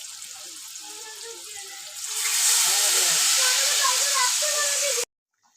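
Water poured into a pan of fried potatoes and spices for a fish curry makes a loud, steady hissing sizzle that swells after two seconds, then cuts off abruptly.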